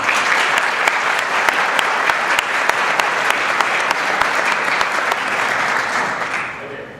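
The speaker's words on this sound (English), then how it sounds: "I'd like you to stand up and just take an applause for being a member." A conference audience applauds a member: dense, steady clapping from many hands fills the room at full strength, with a few sharper individual claps standing out before it thins and fades at the end.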